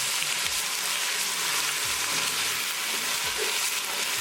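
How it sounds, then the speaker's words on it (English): Tadka paste sizzles loudly and continuously in a hot pan, with steady scraping and stirring strokes of a spoon heard up close and no talking. "So keep it moving and we're going to keep cooking. We're going to cook our tadka really well."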